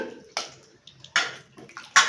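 Intermittent splashes and sloshes of water as chicken meat is washed by hand in a bowl, several short bursts with brief pauses between.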